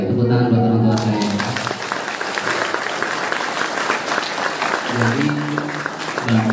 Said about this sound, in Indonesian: Tepuk tangan buat orang tua saya.